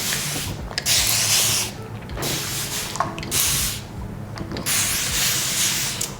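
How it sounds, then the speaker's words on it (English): Repeated bursts of hissing spray from a spray bottle misting water onto curly hair, several short pumps with brief pauses between them, close and fairly quiet. "We are getting the water, and I'm just spraying the hair."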